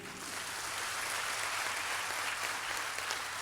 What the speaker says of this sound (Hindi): इतनी सी ताली बजाएंगे इनके लिए?